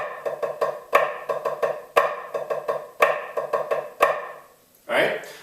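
Drum strokes played as flam drags back to back, with quick grace-note flams followed by rapid double taps in a steady repeating pattern, close and fairly loud, then a short burst of noise at the end.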